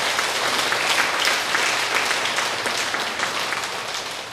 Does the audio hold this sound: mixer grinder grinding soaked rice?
no